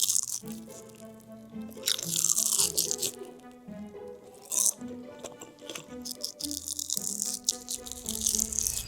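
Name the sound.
crunching on fried rice cakes topped with sugar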